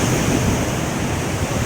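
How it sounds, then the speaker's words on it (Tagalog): Strong ocean waves roll onto the shore at Agutayan Jump Off, a loud, steady roar of surf mixed with wind buffeting the microphone, with no voices heard. "malakas yung alon guys"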